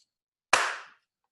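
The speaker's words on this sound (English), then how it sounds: "I'm gonna clap and we can get started again" A single sharp hand clap, close and crisp, cuts through near silence and decays within half a second.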